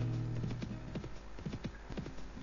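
A donkey's hooves clip-clop in a quick, steady rhythm in the Mount & Blade 1866 western game, fairly close and alone, with a low droning hum underneath.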